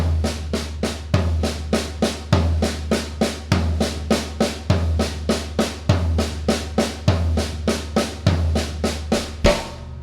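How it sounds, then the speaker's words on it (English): Steady floor tom strokes land about once a second, each a deep booming thud that rings out, with lighter taps in between, played alone. "instead of hitting the high tom, I'm going to hit the floor tom"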